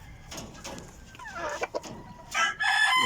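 Backyard pet chickens: a rooster crows close by amid soft clucking, with a second louder crow starting near the end.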